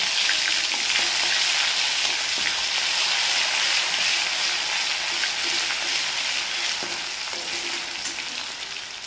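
Ginger garlic paste frying with cumin seeds in a pan, a dense, steady hiss of sizzling oil, close and loud, easing slightly toward the end, with no talk.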